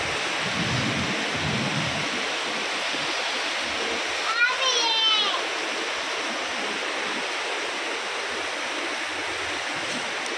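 Heavy rain pours steadily outside, a dense, continuous hiss that holds throughout, with a brief faint voice partway through.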